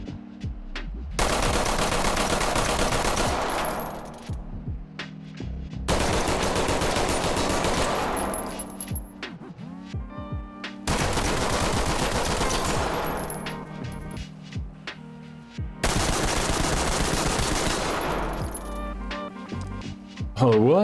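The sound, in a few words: Glock 19 and M11 pistol gunfire in video game Ready or Not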